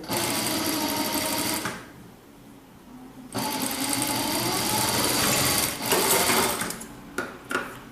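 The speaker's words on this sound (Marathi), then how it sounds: "अर्धा इंच मार्जिनने शिवून घेणार आहोत. दोन्ही शिलाई एकमेकाला टच करायच्या आहेत" Sewing machine stitching the inside seam of a baby jumpsuit with a half-inch margin, a fast close whirring hum in bursts, pausing once for over a second before resuming, with short stops and clicks near the end.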